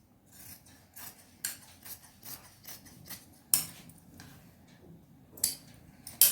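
Scissors snip through fabric while a girls' uniform collar-neck top is cut, giving a series of short, crisp, close cuts in an irregular rhythm with quiet pauses between them and no talk.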